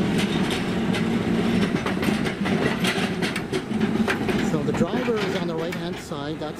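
A Rock Region Metro streetcar in Little Rock rolls into the station with loud rumbling and clattering wheels, rising squeals as it slows, and a person talking over the noise close by.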